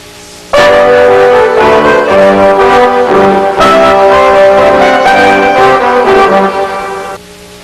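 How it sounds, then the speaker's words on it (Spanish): Orchestral brass section of horns, trumpets, trombones and tubas playing together, a loud sustained chord entering after a brief silence, shifting harmonies over several seconds before cutting off near the end. "Los cornos, trompetas, trombones y tubas se escuchan así cuando suenan al mismo tiempo."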